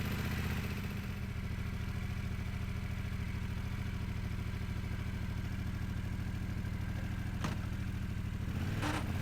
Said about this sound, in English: Never mind the Tenere's cold clutch judder.